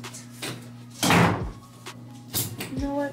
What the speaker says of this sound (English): Close my door.